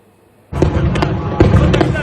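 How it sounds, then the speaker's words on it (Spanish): Bombs explode over Gaza, where schools and refugee camps are being hit, in a sudden loud burst of blasts and crackling impacts that runs on to the end of the short clip. "En Gaza, las bombas siguen cayendo sobre escuelas y campos de refugiados."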